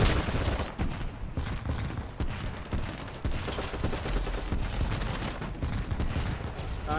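Rapid bursts of gunfire in the video game Battlebit, dense overlapping shots crackling almost continuously at close range, with voices talking intermittently underneath.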